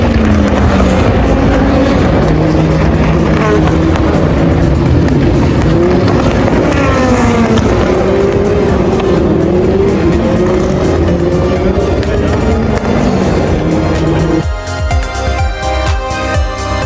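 Race cars at the 24 Hours of Le Mans roar past in a loud, dense blur of engine noise with rising and falling whines, until a sudden change near the end.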